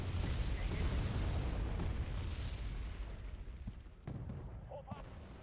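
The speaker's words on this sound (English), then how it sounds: "Drop your damn bombs!" Bombs exploding in the video game Wargame: AirLand Battle, loud rumbling blasts that roll continuously through the first seconds, then fade into softer distant thuds.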